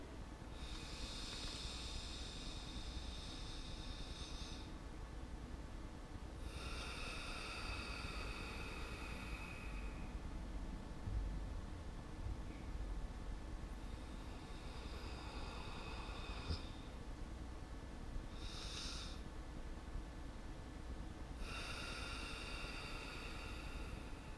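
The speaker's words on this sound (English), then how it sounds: "Here's what belly breathing looks like." Slow diaphragmatic belly breathing, several long inhale-exhale cycles of airy breath noise separated by pauses, steady and close over a constant low background hum, with no talking.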